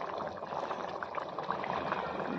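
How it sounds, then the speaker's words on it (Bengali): Water bubbles at a rolling boil in a pot for snail curry, a close, continuous gurgling and hissing that lasts a couple of seconds with no talking. "তো জলটা যে ফুটিয়ে উঠছে"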